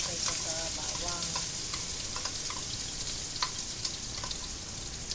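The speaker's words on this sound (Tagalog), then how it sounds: "igisa natin yung bawang at sibuyas. Unahin natin itong sibuyas" Onion and garlic sauté in a pan for palabok, making a constant dense sizzle with light scraping and tapping stir sounds scattered throughout.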